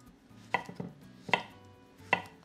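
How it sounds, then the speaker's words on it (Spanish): A knife slices apples into wedges on a cutting board, three sharp distinct cuts landing at a steady pace with soft thuds between them, close and fairly quiet. "Estas las partimos por mitad para poder quitarles el corazón y las vamos a rebanar en gajos."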